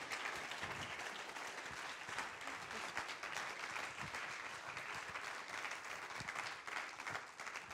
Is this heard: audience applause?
yes